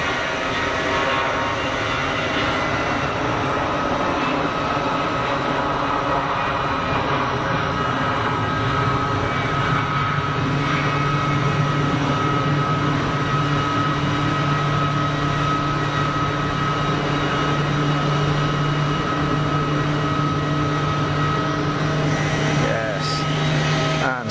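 An easyJet Airbus A320 at Geneva Airport, a steady loud jet engine drone and whine with tonal hum lasting throughout, heard from nearby.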